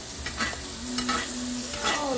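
A steak sizzles and crackles steadily in a hot pan while it is basted, with stirring and scraping sounds mixed in, close and continuous.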